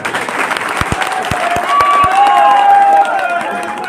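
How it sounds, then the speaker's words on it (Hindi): A crowd at a political rally in Uttar Pradesh breaks into sustained applause with scattered cheering that swells and holds at full volume, along with a few thumps and a faint tone rising above it. "केवल इतनी ताली बनती है इस बात की।"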